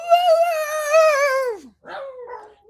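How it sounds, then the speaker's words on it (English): A dog named Kobe gives a drawn-out, howling woo on command, then follows with a couple of shorter yips and whines, close and clear with no talk. "We try to give him the bark. Bark, Kobe."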